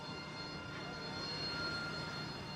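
A U.S. Marines Harrier jump jet engine with the USS Saipan assault force gives a faint, steady, distant drone and whine with a thin high tone, unbroken for a few seconds, and no one talks.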